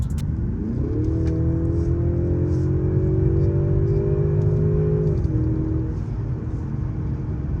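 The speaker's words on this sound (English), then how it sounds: "But personally, I do think that's engine noise." A Mercedes-Benz car accelerates up to the speed limit, a steady engine drone rising in pitch and holding before easing, heard from inside the cabin over road rumble.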